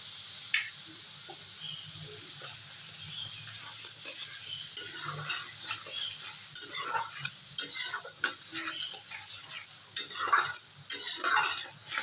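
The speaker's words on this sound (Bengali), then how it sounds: "গ্যাসের ফ্লেমটা কমিয়ে রেখে মশলাটাকে কষিয়ে নেব" Spice paste with tomato stir-fried on a low flame for a parshe fish curry: a soft sizzle under repeated metal spatula scrapes and clinks against the pan, close and rhythmic.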